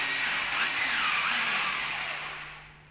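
A power drill bores into the concrete wall of a pool while a steel WF frame is fitted for an ulin wood deck, a loud, steady high whine that holds and then tapers off at the end.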